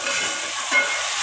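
Finely chopped garlic and ginger hitting a hot pan for a chicken salan, a loud, even sizzling hiss up close that swells briefly partway through.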